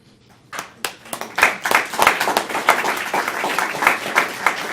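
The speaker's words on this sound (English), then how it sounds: "If we're going to clap for every one of Russ's awards, it's going to be a long night" An audience breaks into applause after a quiet start, clapping building quickly and holding steady, with scattered louder claps throughout.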